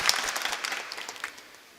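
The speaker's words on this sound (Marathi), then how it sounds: "एकदा टाळ्या वाजून ह्या सीझनच्या सुरुवात होते" Scattered clapping from farmers and guests marks the start of the season at the Agasti sugar factory, a short, fairly quiet burst of applause that fades quickly.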